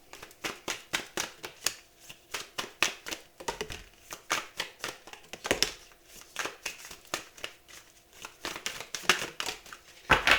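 Tarot cards are shuffled by hand in a quiet room, producing a steady run of crisp riffling and flicking bursts with brief pauses, close to the listener and fairly soft, no speech.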